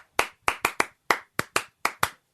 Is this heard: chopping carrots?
no